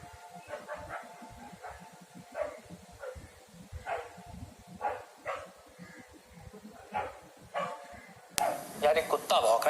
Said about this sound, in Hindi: यार एक कुत्ता भौंक रहा है